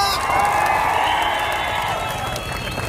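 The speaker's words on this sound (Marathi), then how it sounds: "टाळ्या वाजवा." Crowd at a large protest march in Ahilyanagar cheers and applauds, a loud, dense wash of clapping and shouting that holds steady throughout and tapers slightly toward the end.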